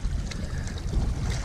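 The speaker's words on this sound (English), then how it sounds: "just to get out the wind because it's completely picked up" Strong gusting wind buffets the microphone on a loch shore at Loch Doon in Ayrshire, a continuous rough low roar with steady loudness and no voices.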